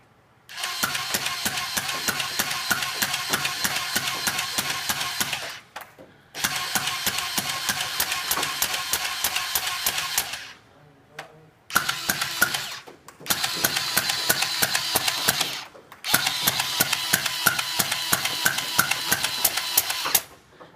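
Motorized Nerf dart blaster mounted on a wheelchair tray, firing in long rapid bursts of whirring, clattering mechanical shots with brief pauses between volleys, loud and close.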